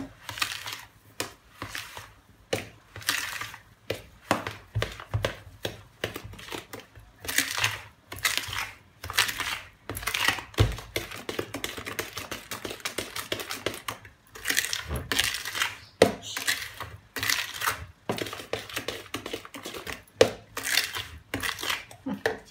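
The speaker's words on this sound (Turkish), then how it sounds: "Onu da yine kaşıkla karıştırıyorum" A spoon clinking and scraping against a bowl in quick, repeated strokes, stirring San Sebastian cheesecake batter, close by, with no talking.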